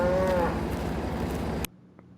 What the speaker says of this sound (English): Let me check on the cows.